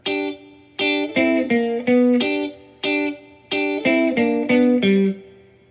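A guitar plays a short lick of plucked double-stop notes in quick groups, with brief pauses between phrases, clear and close, no voices.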